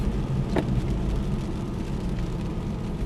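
An Aston Martin V8 Vantage on a race track, its engine a steady, loud roar under light acceleration, with one brief higher whine early on and no voices.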